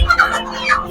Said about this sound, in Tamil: அடுத்தது கினிக்கோழிங்க.